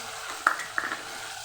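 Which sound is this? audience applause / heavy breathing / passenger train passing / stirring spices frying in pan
stirring spices frying in pan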